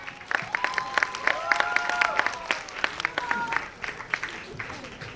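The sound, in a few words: audience applause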